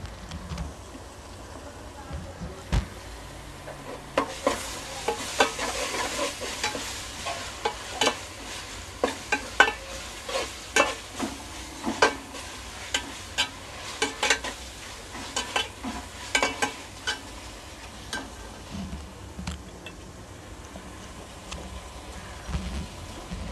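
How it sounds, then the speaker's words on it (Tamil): Ginger and garlic sauté in oil in a pan for mushroom biryani, giving a low, steady sizzle broken by frequent scraping and stirring strokes throughout. "அதனால் இது நல்லா எண்ணெயில் வதங்கட்டும்"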